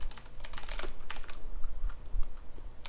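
Rapid clicking keystrokes on a computer keyboard during a Vim editor exercise, close and continuous, with dense bursts of keys early and sparser taps later.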